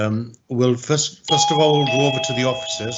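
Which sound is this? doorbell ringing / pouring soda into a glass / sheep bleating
doorbell ringing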